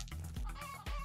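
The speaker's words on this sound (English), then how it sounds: "It cracked open into a chicken and then laid an egg immediately after." Cartoonish chicken clucking from the video game Luck be a Landlord, a brief burst of several rapid clucks, loud and up close, with no talk.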